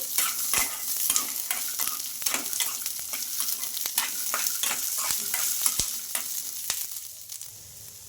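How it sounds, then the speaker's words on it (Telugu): Green chilies and peanuts fry in hot oil, a steady close sizzle broken by the frequent clacks of a spoon stirring the pan. "ఇంకా ఈ మిర్చి కూడా బాగా ఫ్రై అవ్వాలి"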